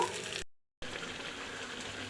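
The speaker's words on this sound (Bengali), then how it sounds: "শুকনো মরিচ ভাজা হচ্ছে" Dried chilies frying in oil for a chicken kala bhuna, a steady close sizzle broken by a brief silent cut, no talking.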